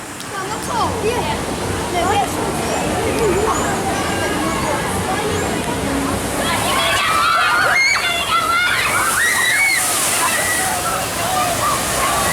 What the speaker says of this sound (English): They fixed the waterfall on that side